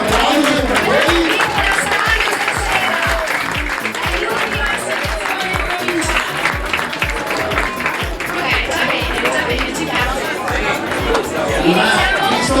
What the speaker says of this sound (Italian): Facciamo una prova, il primo applauso per voi.